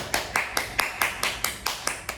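Steady hand clapping, about ten crisp claps in an even rhythm, close and moderately loud.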